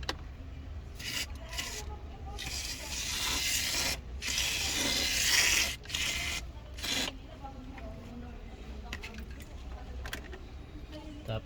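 Aircon foam cleaner sprayed in hissy bursts into the blower of a Montero Gen 2, with a longer sustained spray midway, close and fairly loud over rustling handling noise.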